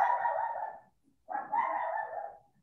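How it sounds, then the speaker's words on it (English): A big-sounding dog barks twice, each bark a long, loud, drawn-out burst separated by a short pause, with no talking. "She's really sounds like she has a big bark"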